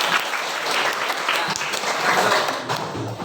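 Students in a classroom perform a rhythmic spirit-clapping routine, dense overlapping claps filling the room steadily and loudly with no pause.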